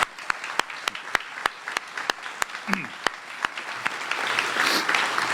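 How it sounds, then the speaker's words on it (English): Audience applauding the city's first responders at a State of the City address, starting as sparse separate claps that thicken into fuller, steady clapping toward the end, with a brief voice partway through. "So how about a round of applause for our city's first responders?"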